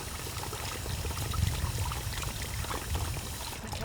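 Water pours steadily into a water tank, a continuous broadband rush with a low rumble, close and fairly constant for a few seconds with no speech.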